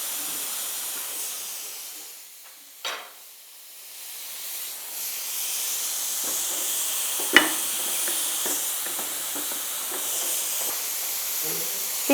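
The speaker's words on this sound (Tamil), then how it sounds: "ஸ்டீம் வந்துச்சு" Steam hisses steadily from a pressure cooker cooking horse gram soup, a continuous broad hiss running throughout with a brief sharper burst and a few small clicks and clatters.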